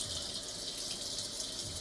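Water runs steadily from a tap in a bar, a continuous close hiss and gush that lasts under two seconds without any voices.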